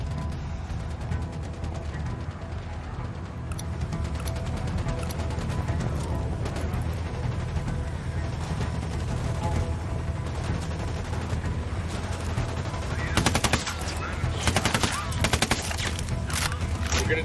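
Sustained gunfire in the video game Ghost Recon Wildlands, dense rapid fusillades of automatic rifle shots rolling continuously with loud bursts and impacts growing toward the end, with voices talking over the combat.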